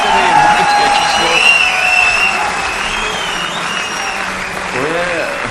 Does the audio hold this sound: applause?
yes